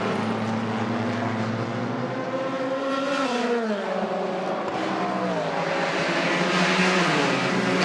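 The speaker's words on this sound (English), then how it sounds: "Extraordinarily different noises between the non-turbocharged and turbocharged Ferraris. The Ford, despite being turbocharged, still makes a pretty decent racket as it goes through." Turbocharged and non-turbocharged Ferrari and Ford GT race cars pass at the Nurburgring six-hour endurance race, engines roaring loudly with pitch sweeping and shifting as they go by, continuous and near.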